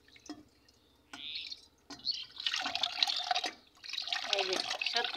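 A black frying pan is scrubbed under running tap water in a sink, with intermittent splashing and dripping bursts that swell and pause, close by and moderately loud, with no talking.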